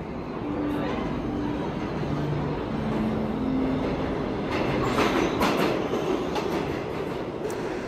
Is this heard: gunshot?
no